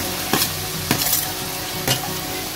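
Chopped onion and tomato sizzle in a hot tempering in a pan for a vegetable pulao, with three distinct spatula scrapes against the pan over a steady, close sizzle.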